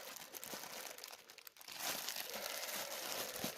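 Black plastic foil on a small AliExpress parcel from China crinkles as it is unwrapped, close and fairly loud, growing into steady dense rustling in the second half with no talk.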